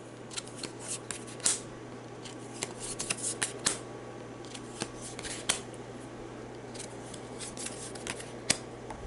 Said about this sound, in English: we'll draw 5 cards